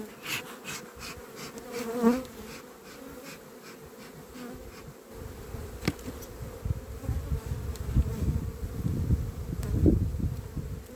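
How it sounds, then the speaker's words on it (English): A dense swarm of honeybees in a nucleus hive hums continuously close by, the buzzing thickening and growing louder in the second half, with occasional sharp clicks. "a lot of bees there"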